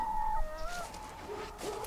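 Hens cluck and warble nearby, several birds overlapping in a soft, continuous chatter with no one talking.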